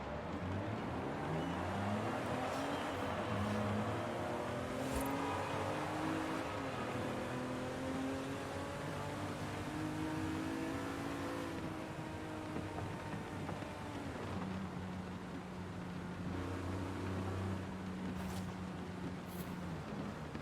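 A Lamborghini Diablo engine drones and climbs through gears while driving in rain in a racing video game, rising tones shifting and falling back, with a wet hiss of water underneath throughout.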